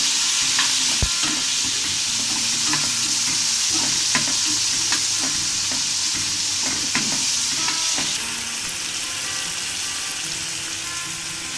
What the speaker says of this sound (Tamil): இதை நல்லா 2 நிமிஷம் வதக்கணும்.